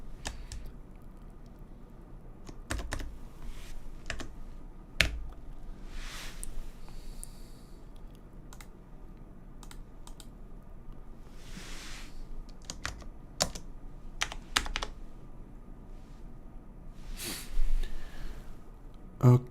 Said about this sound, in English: You just typed a bunch of weird crap.